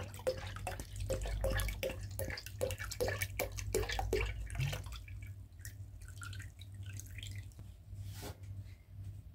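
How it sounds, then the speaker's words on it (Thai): Sunny Boy cream soda syrup poured from a bottle into a pot, a steady close glugging stream with dripping that thins to a light trickle and a few last drops. "ในขั้นตอนนี้นะคะเราจะเทไซรัปซันนี่บอยครีมโซดานะคะลงไป1ขวดเลยนะ"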